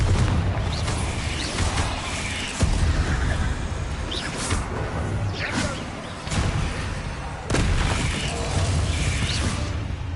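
Bombarda explosion spells in Hogwarts Legacy during a spider fight, heavy thuds and crashes landing every couple of seconds over a steady background of game clatter.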